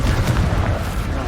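Confringo fire spell blast in Hogwarts Legacy, a loud, dense burst of explosive noise that fills the whole short moment, with a low rumble and no talk over it.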